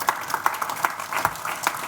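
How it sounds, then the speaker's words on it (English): Audience at a business forum gives a short burst of clapping, scattered individual claps rather than a dense roar, fairly close and moderately loud. "Please give them another round of applause"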